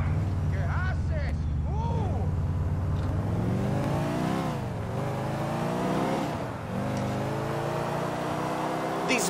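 Car engine in the video game GTA 4 hums steadily and rises and falls in pitch as the vehicle accelerates, with voices talking over much of the driving.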